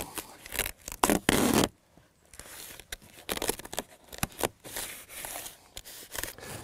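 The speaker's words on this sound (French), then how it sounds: "Je continue à fermer le manchon avec de l'adhésif" Adhesive tape is pulled and wrapped around a foam pipe insulation sleeve on outdoor plumbing, giving close, scratchy tearing and rasping bursts with short pauses, one loud strip being unrolled near the start and smaller crackles after it.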